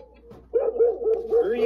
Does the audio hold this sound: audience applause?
no